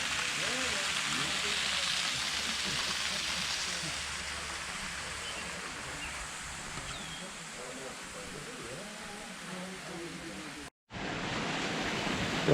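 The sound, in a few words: Little Box Canyon waterfall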